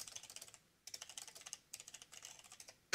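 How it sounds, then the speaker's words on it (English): Computer keyboard typing in three quick bursts of rapid, crisp key clicks separated by short pauses, close and moderately loud with no talk. "Typing. Somebody's writing something."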